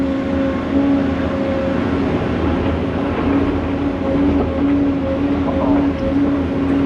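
A Volvo 950 wheel loader scoops its first bucket while loading a new haul truck, a steady, loud diesel drone with a constant tonal hum and no voices.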